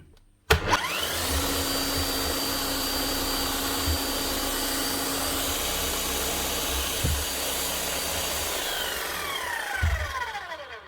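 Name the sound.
Bosch demolition hammer motor running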